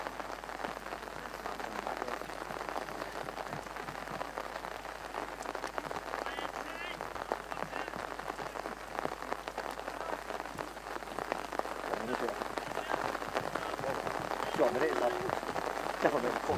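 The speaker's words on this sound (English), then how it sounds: "Rain increases its intensity again." Steady rain hisses and patters throughout a youth football match between Manchester United U18s and Stoke City U18s, growing heavier toward the end, with a commentator talking over it.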